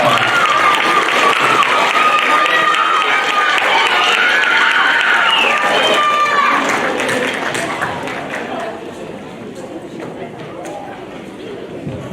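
A middle school spring band concert audience applauds, with bright whistles or cheers over the dense clapping early on. The applause gradually fades toward the end.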